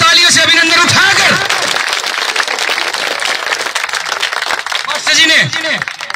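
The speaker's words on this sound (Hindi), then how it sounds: "एक बार दोनों हाथों से तालियों से अभिनंदन उठाकर" Crowd at a village gathering in Kheri Gurjar applauding with both hands, dense loud clapping under someone talking through a loudspeaker, swelling again near the end.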